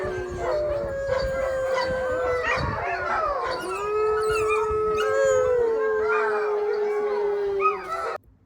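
Sled dogs howl together in a long, loud chorus of rising and falling wails that fills the whole stretch and cuts off abruptly at the end.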